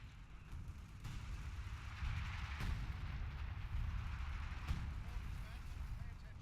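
Artillery fire in a WWII strategy game set in the Battle for Caen around Colombelles lands as three sharp booms over a constant rumbling din of battle, with a voice talking throughout.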